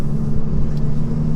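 Steady low diesel rumble of an 18-tonne flatbed lorry engine heard from inside the cab, loud and constant with no speech.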